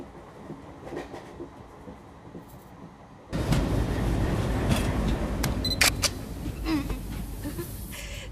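Train running: a steady, loud rumble of rolling wheels and carriage noise starts suddenly partway through and continues to the end, with occasional clanks over the rush; quieter background sound comes before it.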